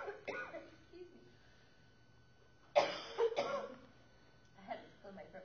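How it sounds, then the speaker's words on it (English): A person coughs and clears their throat in a few rough bursts, with a pair of harsh coughs in the middle, in a quiet room with a voice murmuring faintly around them. "I had to clear my throat for the longest time."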